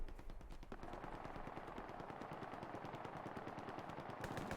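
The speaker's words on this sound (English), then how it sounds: "That's that gunfire we hear in the distance." Rapid machine-gun fire rattles in quick continuous bursts in the World War II shooter Hell Let Loose, a steady stream of shots heard alone without talk.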